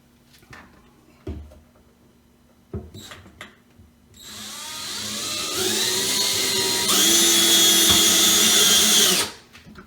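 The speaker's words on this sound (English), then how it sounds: "So it does instruct you to drill pilot holes first so you don't split the wood on the back of your cabinet" A power drill bores pilot holes into the wooden back of a kitchen upper cabinet: a few knocks and handling sounds first, then a loud close whine that rises in pitch for several seconds before stopping abruptly.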